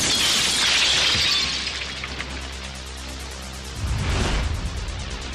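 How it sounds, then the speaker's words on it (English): A bomb blast wave shatters a wall of glass windows in a loud burst of crashing shards, fading into a rumbling hiss before a second deep boom and crackle rises. "Military high-speed film shows what it's like when a blast wave hits a wall of glass."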